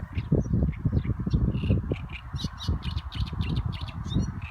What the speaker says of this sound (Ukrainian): Чуєте, як пташка співає гарно?